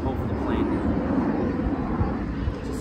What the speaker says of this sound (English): So we gotta hope for the plane.